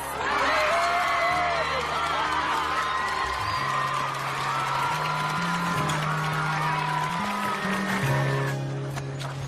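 A festival crowd at a strawberry festival cheers and applauds loudly and steadily while music plays underneath, with whoops rising out of the dense, continuous noise.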